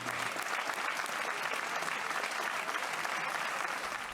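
A crowd gathered in the Plaza Mayor of Soria applauds in support of the Ukrainian people, a dense, steady wash of clapping heard from a short distance that stays even throughout.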